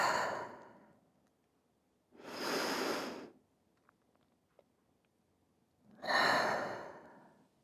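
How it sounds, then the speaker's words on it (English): Slow, deep breaths taken while resting in child's pose during a stretching routine: two long audible exhales and one long inhale, soft and close, separated by quiet pauses. "Take a few rounds of your breath right here."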